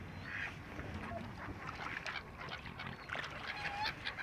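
Swans on open water give a few honking calls over a steady outdoor wash of wind and water, fairly distant, with faint voices in the background.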